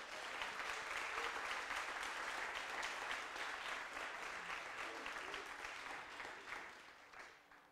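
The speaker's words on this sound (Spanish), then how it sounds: "Dele un aplauso al Señor." A church congregation claps in steady, continuous applause that fills the room at moderate distance and fades gradually near the end, with a few voices mixed in underneath.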